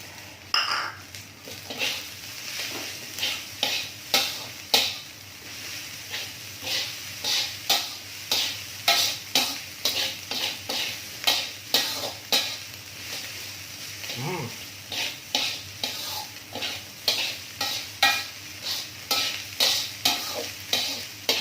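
Shredded cabbage stir-fried in a pan for fried rice, a spatula scraping and tossing in a steady rhythm about once a second over a constant close sizzle, with no talking.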